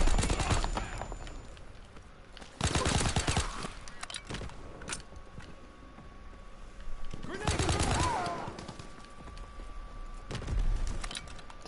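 Rapid gunfire bursts in Call of Duty WW2 erupt in several loud clusters separated by quieter stretches, with a clatter of shots in each burst.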